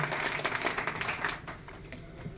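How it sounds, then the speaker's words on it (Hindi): Audience at a Haryana political gathering claps steadily in dense, fairly loud applause that thins toward the end. "एक बार पूरे हरियाणा की जनता के लिए भी हम लोग बहुत तालियां बजाकर उनका अभिनंदन करते हैं"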